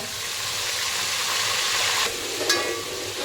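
Asafoetida and curry leaves sizzle in hot oil, a steady close bright hiss with a sharper crackling spurt near the end, no voices.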